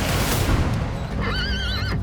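A racehorse gives a clear whinny lasting under a second near the end, rising over loud, steady background noise.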